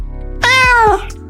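A cat lets out a single clear, close meow, rising and then falling in pitch, over faint background hum.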